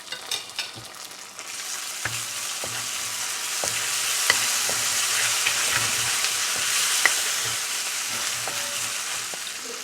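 Ginger garlic paste sizzles and fries steadily in a pan, a dense continuous crackle with a few sharp knocks of a utensil against the pan, close and fairly loud, no voices.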